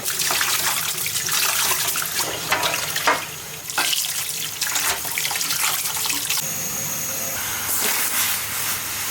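Tap water runs steadily into a sink as shrimp are rinsed with salt, a continuous close hiss and splatter with shifting splashes where hands move through the stream.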